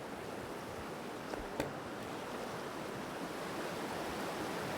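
Cold river water rushes steadily past in Palin, Arunachal, a dense, even roar close to the microphone with a couple of faint knocks, and no voices.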